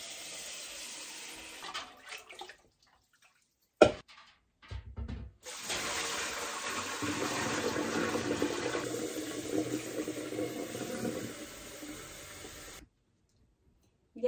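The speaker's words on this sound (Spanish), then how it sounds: "voy a ponerle agua fría para bajar considerablemente la temperatura" Cold water running from a tap into a pot of hot water while canning enchilada sauce, a steady splashing stream lasting several seconds after brief clatter and a sharp knock.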